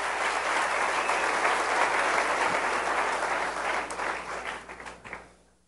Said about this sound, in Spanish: Denle un buen aplauso al rey